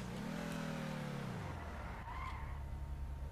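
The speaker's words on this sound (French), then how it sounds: "Moi, j'adore le bruit du moteur." A GT car in GTA 5 Online, its engine winding down from a high rev before a short tire squeal as it skids, steady and loud with no talk over it.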